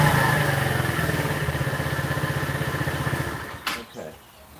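A Chinese 125 cc scooter engine idles with a steady low pulsing throb, then cuts off near the end, leaving a brief clatter and quiet.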